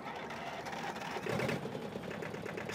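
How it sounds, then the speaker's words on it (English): John Deere tractor engine idling in Farming Simulator 2013, a steady low mechanical rumble with a fast rattling pulse, close and continuous with a slight swell midway. "Terrible little engine in this thing"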